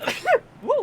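A person sneezes once indoors, close to the microphone, a quick sharp burst that ends in a voiced, rising and falling cry, right after a brief spoken word.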